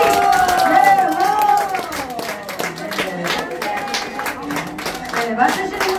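At a Korean instructors' association year-end party, an audience claps in a rhythmic cheer pattern while voices shout and chant over it, loud and close throughout.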